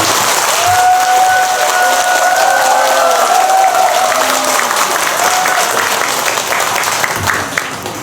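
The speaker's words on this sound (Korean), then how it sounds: "오늘 귀한 걸음 해주신 원장님께 큰 박수 다시 부탁드립니다" An audience at a Buddhist temple service at Yaksa Temple on Manwolsan gives sustained, loud applause, dense clapping filling the hall for several seconds with a few voices mixed in.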